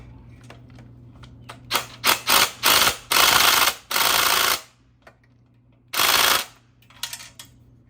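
An articulating socket wrench on an impact tool hammers at an engine header stud during an Aston Martin V12 engine swap; several loud, close bursts of rapid rattling impacts separated by short pauses.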